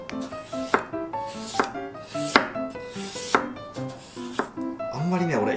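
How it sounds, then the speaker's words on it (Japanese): A knife thinly slices a carrot on a cutting board, giving about eight crisp, evenly spaced chops in a steady rhythm, close and distinct. "まずは人参からさばいていきましょう。 半分ぐらいでいいよ。 薄切りにしていきましょう。"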